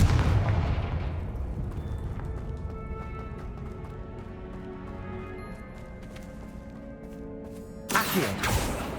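Confringo blasting spells from Hogwarts Legacy burst into rumbling explosions, an opening heavy boom followed by a sustained low roar with scattered crackles, then a sharp fresh blast near the end.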